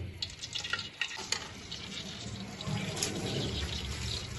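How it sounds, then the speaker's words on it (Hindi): Whole spices frying in ghee in a pan for palak gosht, with a faint continuous sizzle and light stirring clinks close by, fairly quiet and without talk. "अब वो फ्लेम स्टार्ट करके इसमें डालते हैं घी और इसकी करते हैं तलाई"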